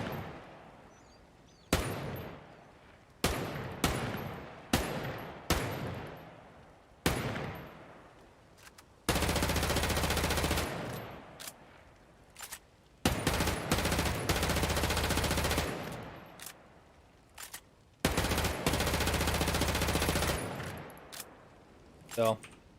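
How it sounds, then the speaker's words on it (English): Unsuppressed single-shot rifle fire from the Ghost Recon Breakpoint video game, loud sharp reports with decaying tails, first spaced individually, then fired in long rapid sustained bursts. "Single shot. Take the suppressor off."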